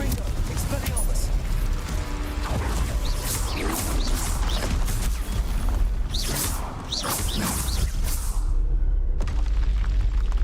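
Confringo blast spell explosions in Hogwarts Legacy combat, several booming bursts and whooshes in quick succession, loud and close, mixed with game effects and voices talking.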